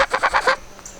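Several loud, nasal honks from domestic geese on a homestead in quick succession, close by, followed by a fainter call.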